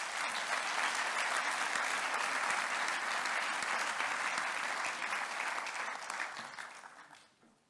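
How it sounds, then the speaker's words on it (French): A large audience at a civic conference applauds steadily for several seconds, the dense clapping holding even and loud before tapering off at the end. "Je vous demande de les applaudir"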